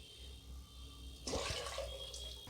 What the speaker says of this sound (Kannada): ಈಗ 2 ನೀರು ಹಾಕ್ಕೊಂಬಿಡೋಣ ಫ್ರೆಂಡ್ಸ್.